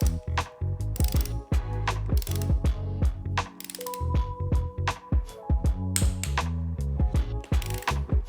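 A torque wrench ratchets on the conrod bearing caps of a Honda CRX engine, loud close bursts of rapid clicking pawl strokes with brief pauses between pulls.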